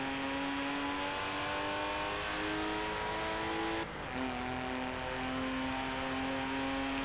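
Car engine in Forza Horizon 4, a sustained steady drone that climbs in pitch under acceleration, briefly drops around a gear change, then holds a strong, even tone with no voices.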